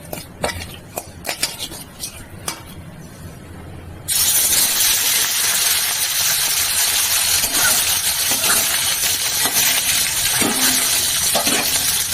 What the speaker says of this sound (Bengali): ভালো করে মাছগুলোকে ভেজে নিচ্ছি